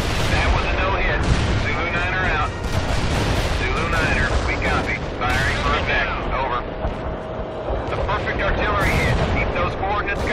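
Artillery barrage in the video game World in Conflict, heard as a dense, continuous roll of heavy booms and blasts overlapping one another, loud and sustained throughout.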